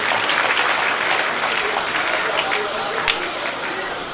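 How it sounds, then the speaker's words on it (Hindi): An audience at a Bhagwat recitation gathering at a gaushala in Rampura gives a loud, sustained round of applause, dense steady clapping close by with no pause. "जोरदार तालियां इनके भी सम्मान हो।"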